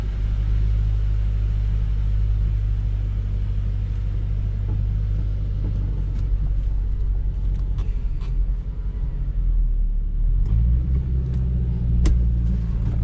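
A 2007 Shelby GT with about 146,000 miles rumbles steadily from inside the car while driving, a low, constant engine drone that shifts pitch near the end as it changes speed, with no talk.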